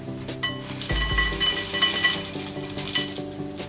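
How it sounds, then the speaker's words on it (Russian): Crunchy dried bread croutons tumble into a dish of seaweed and egg salad with a steady clatter and clinking of utensils against the bowl, close and fairly loud, without any voices. "Добавляем в салат сухарики."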